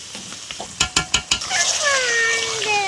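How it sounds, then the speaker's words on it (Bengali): Chicken pieces stir-fried in spiced masala in a pot for biryani, with four sharp scraping knocks of a utensil against the pot, then a steady bright sizzle that rises and holds, close and alone. "তো মাংসটা আমরা একটু ভালো করে ইয়ে কষিয়ে নেব"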